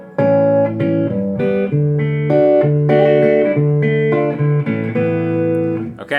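An acoustic guitar plays the main chord progression of a song as a steady accompaniment, strummed and picked chords ringing out close and clear with no talking.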